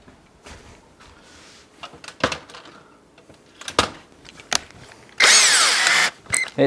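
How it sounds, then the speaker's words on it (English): Bursts of a power drill pre-drilling wood in a workshop, several short whirs and then one long loud run near the end, with clattering and handling noise between. "Pre-drilling."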